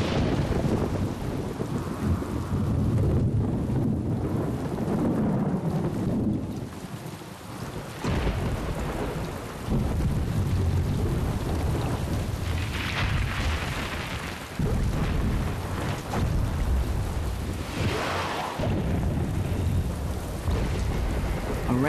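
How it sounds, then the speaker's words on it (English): A heavy rainstorm pours down steadily while deep rolls of thunder rumble and swell several times, loud and continuous, with no voices. "A rainstorm can be deadly."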